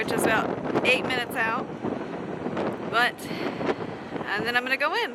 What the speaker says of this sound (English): it's super windy